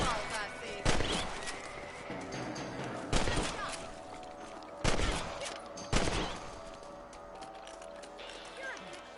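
Rifle shots fired at rabbits in the game Red Dead Redemption, four sharp, loud reports spaced a second or more apart over background ambience and hoofbeats, with voices talking between them.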